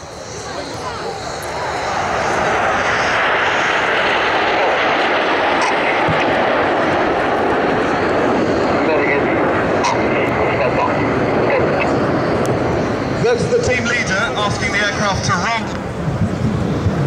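Red Arrows jets fly in formation at the Radom Air Show 2009, a loud, sustained roar that swells in and holds for many seconds, heard from the ground while an announcer talks throughout.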